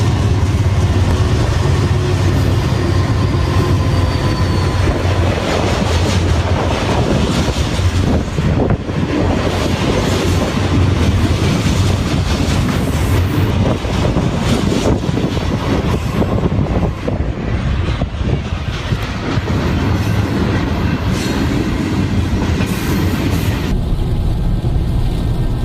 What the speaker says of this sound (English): This is a live train, folks.